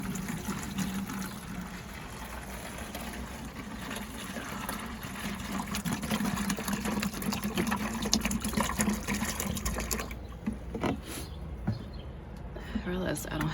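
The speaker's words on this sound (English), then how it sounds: "Add our half gallon of water." A half gallon of water poured into a container for mixing fertilizer for marigold, petunia and zinnia seeds runs as a steady, close gush and trickle that tapers off near the end.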